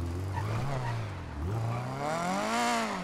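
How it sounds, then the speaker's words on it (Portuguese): A turbocharged VW Brasilia accelerates hard, its engine note rising and dipping through gear changes, loud and close, with someone talking over it. "Tu pisa aqui, não tem que esperar a turbina encher, ó. Vai embora, ó."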